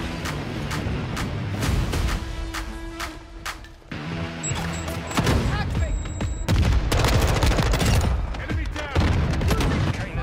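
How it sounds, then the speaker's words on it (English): Gunfire in Call of Duty Modern Warfare II, with rapid bursts and volleys of automatic shots cracking in clusters alongside booms and game effects, loud and dense throughout the clip. "Ah, he's shooting at me, run."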